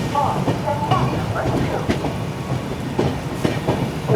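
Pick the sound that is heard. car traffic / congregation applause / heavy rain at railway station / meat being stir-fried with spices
heavy rain at railway station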